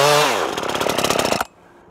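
A chainsaw revs hard, then bogs into a steady, rattling cut against protective chainsaw chaps before cutting out abruptly into near silence.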